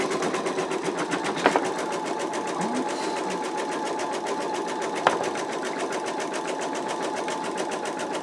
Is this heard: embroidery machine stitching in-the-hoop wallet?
yes